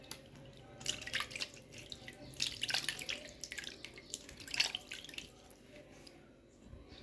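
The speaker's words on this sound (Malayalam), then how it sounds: "അത് നമുക്ക് കഴുകിയെടുക്കാം." A face pack rinsed off by hand with water: soft, irregular splashes and drips close by, quiet and intermittent, with no speech.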